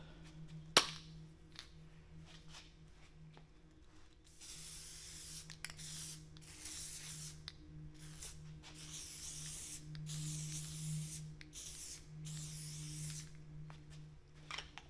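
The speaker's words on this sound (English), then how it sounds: "hold it 6 to 8 inches away, spray both surfaces, and then press firmly together" Repeated hissing bursts of an aerosol spray adhesive can, several short sprays in succession after a sharp click, fairly close with quiet pauses between, applied while bonding a car headliner.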